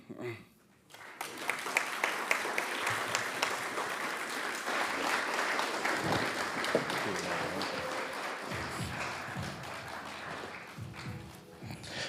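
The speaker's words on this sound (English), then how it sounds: "how about another round of applause for Dr." After a keynote talk on ocean and Pacific unity, an audience applauds Dr. David Palaita with a long, full round of clapping rising after a brief quiet start and carrying on steadily.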